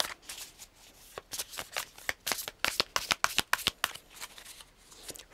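A deck of tarot cards is shuffled up close: a quick, dry flurry of card slaps and riffles that builds into a dense run of crisp snaps, with no talking.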